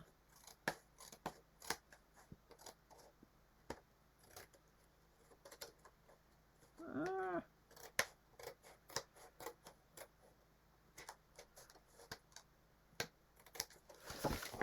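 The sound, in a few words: trimming a paper craft layer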